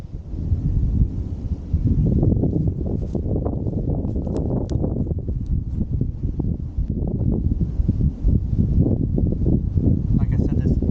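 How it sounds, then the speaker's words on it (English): Wind blowing steadily outdoors at a park, a continuous low rumbling buffet on the microphone that stays fairly loud throughout, with faint rustling mixed in. "Outside today, even though the wind's kind of blowing,"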